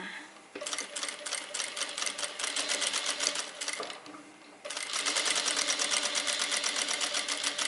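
An industrial sewing machine stitches a curved seam in fabric, its needle hammering in a fast, steady rhythm close up, pausing briefly as the presser foot is lifted and the cloth turned, then running on loudly.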